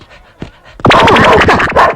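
A dog in a Telugu film scene pants softly, then breaks into a loud, rapid burst of barking close by that nearly fills the moment.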